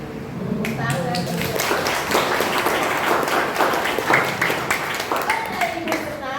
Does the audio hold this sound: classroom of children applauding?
yes